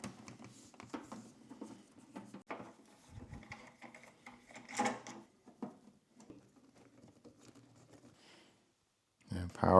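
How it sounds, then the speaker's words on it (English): A broken LaserDisc player whose tray fails to eject properly makes irregular grinding, ratcheting and clicking mechanical noises up close, with a sudden louder clatter at the very end. "it's making some pretty unpleasant noises. Obviously there's a mechanical problem, the tray doesn't properly eject."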